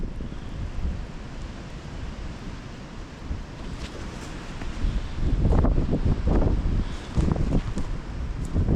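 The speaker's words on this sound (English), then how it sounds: "because the wind is blowing from the north" Wind blowing hard across a frozen winter lake, a steady roaring rumble of gusts buffeting the microphone that grows stronger toward the end, with no talking.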